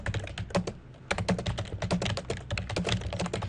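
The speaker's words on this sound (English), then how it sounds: "Oops. I can't type." Rapid typing on a computer keyboard while composing an email, a close, dense patter of key clicks with a short pause near the start, then a continuous burst.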